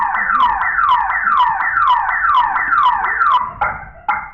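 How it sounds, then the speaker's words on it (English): A car alarm blares in a repeating whooping cycle, about seven rising-falling wails, then cuts to a couple of short chirps near the end. "That's a car alarm."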